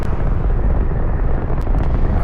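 A booster rocket launch in Fortnite Battle Royale, a loud, continuous low roaring rumble with no break, close and heavy throughout.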